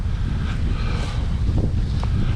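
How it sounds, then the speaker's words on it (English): Strong gusty wind buffeting the microphone beside a trout stream in southeast Minnesota, a continuous low rumbling roar with no voices. "It's just so windy that it won't even let me get it off the bank."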